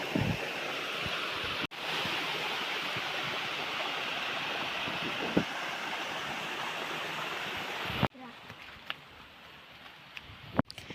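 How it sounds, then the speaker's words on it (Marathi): Steady rushing water of a small waterfall in the countryside pours continuously, with wind buffeting the microphone and a couple of sharp knocks; the roar drops abruptly near the end. "एवढा काय मोठा नाही धबधबा आहे हा बघा आणि हा असं पाणी वरून खाली येतो"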